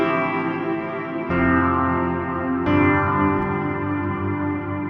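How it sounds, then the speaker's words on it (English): Sampled guitar chords from the MegaMagic Guitars library with reverb built into the samples, three strummed chords in turn, each left ringing out into a long, lush wash that overlaps the next. "because the reverb is in the samples, those notes are allowed to ring out"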